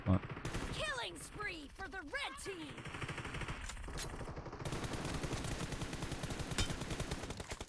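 Gunfire rattles through a shooter video game, with bursts of rapid automatic shots at a fairly steady level alongside whooping game effects, while a voice talks over the action.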